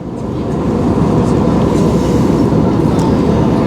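Airliner making a steady climb southwest after takeoff from Paro International Airport, heard from the cabin as a loud, continuous, steady engine roar and rumble with no breaks.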